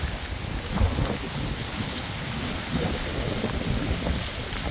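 Heavy rain with strong wind pours down steadily, heard from under a tree, with dense, roaring patter and low rumbles, loud and continuous with no voices.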